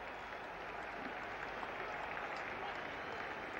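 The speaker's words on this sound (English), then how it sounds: "Crowd going wild now." Cricket crowd at a 1973 West Indies match in England applauds and cheers a four hit behind square, a faint, steady wash of clapping and crowd noise with no let-up.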